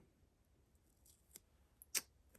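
Scissors snipping craft paper for a Dollar Tree snowflake Christmas tree wall decoration: a few faint, crisp snips spaced apart, the last one sharpest, close by in a quiet room.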